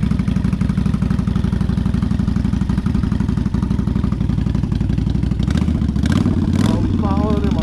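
A Kawasaki Vulcan 800 cruiser motorcycle fitted with aftermarket pipes runs loud and steady with a throbbing engine note. Talk rises briefly near the end.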